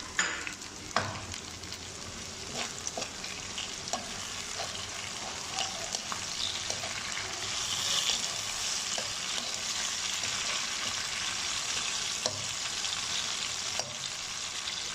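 Garlic, tomatoes and green chillies frying in a pan for an arbi and eggplant curry, a continuous hiss of sizzling oil with occasional stirring clatters, no one talking.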